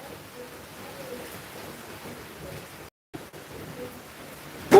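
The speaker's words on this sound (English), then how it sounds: "Rain here." Rain falling as a steady, fairly faint hiss of outdoor noise throughout, briefly cut out for a moment near the middle.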